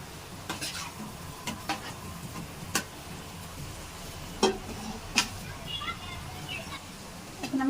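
Fish roe curry fries in a pan as its liquid cooks off, a soft continuous sizzle broken by sharp scraping and tapping strokes of a spoon stirring against the pan at irregular intervals.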